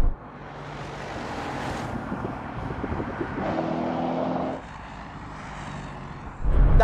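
A Mercedes-AMG G63 pulls hard in a drag race with a sustained, loud engine roar mixed with heavy wind buffeting; the roar eases partway through before rising again at the end.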